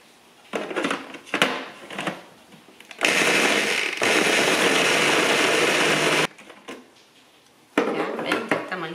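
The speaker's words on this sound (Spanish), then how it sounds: "Entonces ahora voy a echarlo al procesador y vamos a empezar." A food processor grinds a sticky mixture of dates, nuts and almonds in a loud, steady whir of about three seconds, with clattering and handling noises before and after.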